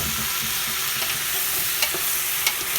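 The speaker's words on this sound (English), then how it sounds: "Just give them a stir around." Potatoes and softening onions with bay leaves are stirred in a soup pot over a steady loud sizzle, with a few faint scraping knocks of the spoon against the pot.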